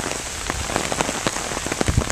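Rain coming down during a summer walk outdoors, a soft steady patter with scattered sharper drops striking nearby surfaces, fairly quiet and with no one talking.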